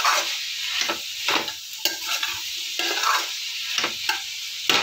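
Spices with cumin powder, sugar and ginger paste are sautéed for a moong dal with vegetables, with rhythmic spatula strokes scraping the pan over a bright steady sizzle, close up.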